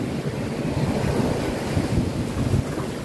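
Ocean surf rolling onto a beach at sunset, a steady broad wash of breaking waves with gusts of wind buffeting the microphone, continuous and fairly loud with no voices.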